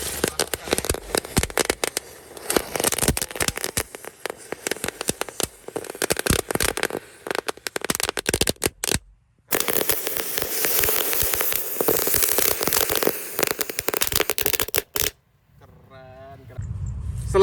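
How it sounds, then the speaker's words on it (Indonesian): Dense crackling of green and yellow lotus firecrackers set off in the ground in rapid bursts, loud and close, with a brief pause midway before the popping resumes, then a faint whistling tail. "Selanjutnya kita nyalakan mercon teratai warna hijau dan kuning."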